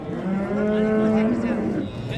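A yearling ox at a livestock market gives one long, loud low moo that rises slightly and then fades, close by with faint market background behind it.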